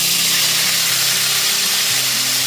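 Green chilli paste with onion, ginger and garlic hitting hot oil in a pan for a spicy bhola fish curry, a loud steady hiss and sizzle up close and uninterrupted.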